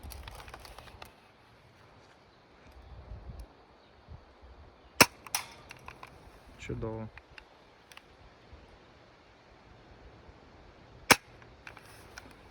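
A few sharp, isolated shots from an airsoft AK-47 rifle pop out of a quiet outdoor background, spaced seconds apart, with a brief spoken word.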